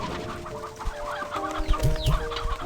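Old chickens cluck in Slime Rancher 2, with a few short clucks and low bursts over steady game music, close and clear.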